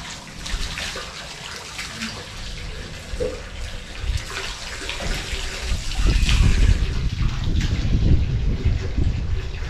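Water runs steadily from a tap for nearly ten seconds, a continuous rushing splash that swells louder toward the end, with no voices over it.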